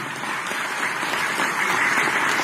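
Audience applause fills a seminar hall at an anniversary gathering, a dense, steady wash of clapping that holds at an even level from start to finish with no voices over it.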